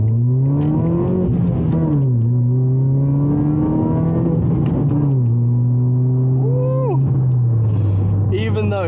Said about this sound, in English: Even though the engine's weak, if you push it hard enough, you can feel a little bit of power